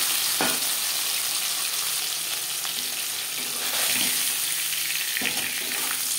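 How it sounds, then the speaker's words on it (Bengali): Hilsa fish pieces sizzle steadily in hot oil in a pan, a loud continuous crackling hiss with a few clinks and scrapes as the fish is turned over. "একটা সাইড ভাজা হয়ে গেলে অপর সাইডটা উল্টে দেবো।"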